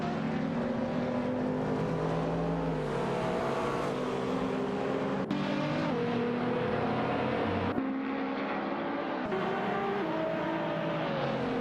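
Several race cars from an AI-driven racing video game, one of them a TVR Tuscan, scream along the track in a close battle for position, with loud, continuous engine tones that rise and fall through gear changes.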